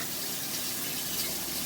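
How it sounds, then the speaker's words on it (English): Tap water running steadily into a kitchen sink while washing up after deboning chicken, a soft, continuous hiss at low level with no talk. "Now I'm going to wash up."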